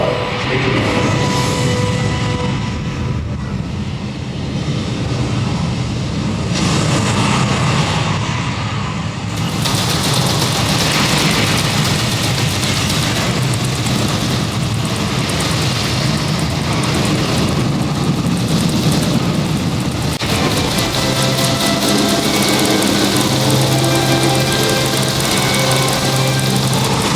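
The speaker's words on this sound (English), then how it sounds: "You are now in the final minutes before the launch of Apollo 8, right here where it actually happened." A recreated Apollo 8 rocket launch roar inside a Kennedy Space Center museum exhibit in Florida, a loud, continuous, broadband rumble that swells and holds for the whole stretch, filling the room with no pauses.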